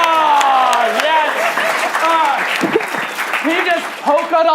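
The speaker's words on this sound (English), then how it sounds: "give him a round of applause." An audience claps steadily with scattered cheers, while loud voices talk and shout over the applause.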